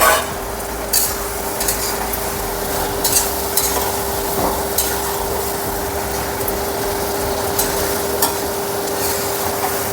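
Cauliflower for gobi manchurian sizzles and fries in a pan with soy sauce, a steady loud crackle with scattered scraping stir strokes throughout and no talk.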